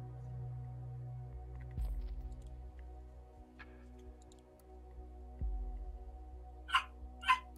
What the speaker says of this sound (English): dog, stop barking, please